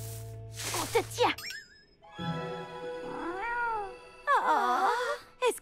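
A cartoon cat in a Polly Pocket episode lets out a series of drawn-out, wavering meows, some sharp and some whiny, mixed with light jingling and bouncy sound effects.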